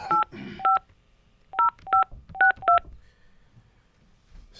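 Touch-tone telephone keypad dialing, with separate dual-tone beeps in short bursts of two, then four, then four more, heard close and clear in a quiet room with faint background rustle between them.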